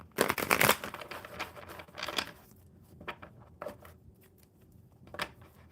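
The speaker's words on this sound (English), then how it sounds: "One more good shuffle." Tarot cards being shuffled close up during a live coffee-and-cards session: a dense riffling burst at the start, then several softer, separated shuffling rustles with quiet gaps between them.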